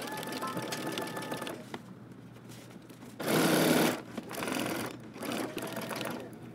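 A sewing machine stitches the crotch seam of a jumpsuit in short runs, a rapid whirring chatter with one louder burst of backstitching in the middle and quieter pauses between.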